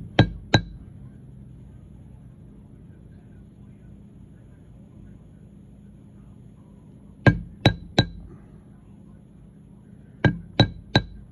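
Sharp hammer blows strike leather during holster making, arriving in short clusters of two or three knocks separated by long quiet pauses, with faint room noise between them.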